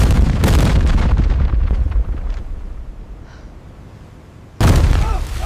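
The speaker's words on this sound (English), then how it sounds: "That's the naval bombardment starting!" Heavy naval bombardment off the Normandy coast on D-Day in 1944, a dense rolling roar of distant artillery fire that eases off and then bursts back in loud and close near the end, with no voices.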